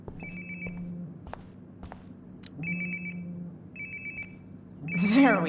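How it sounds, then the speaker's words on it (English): A phone rings in the video game Life is Strange: Before the Storm, with repeated electronic ring bursts at a steady rhythm over low ambience and soft footsteps, ending with a louder rising tone. "Sounds like my phone is definitely nearby."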